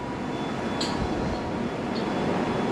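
Old trains on the London rail or underground network roll past with a steady, broad rumble that fills the whole stretch, plus a couple of faint brief squeals; nobody speaks.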